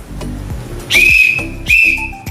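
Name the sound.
whistle blown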